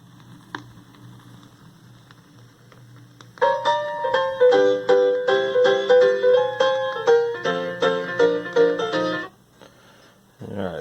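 Vinyl record playing through a vintage Lloyds retro stereo system, music starting after a few seconds of quiet surface noise and running loud and steady with clear tones, then cutting off near the end.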